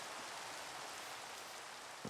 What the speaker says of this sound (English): Or maybe it's just still raining because of the effect.